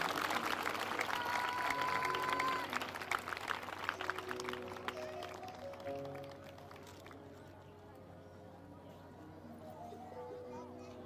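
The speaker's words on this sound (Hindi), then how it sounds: "और जोरदार तालियों के साथ प्रभु को धन्यवाद दें।" Congregation at a church service applauding, a dense broadband wash of claps over the first half to six seconds that thins out and fades, with a voice speaking over it throughout.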